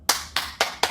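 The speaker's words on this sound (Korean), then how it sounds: "박수" Four crisp hand claps close by, evenly spaced at a steady rhythm in a quiet room.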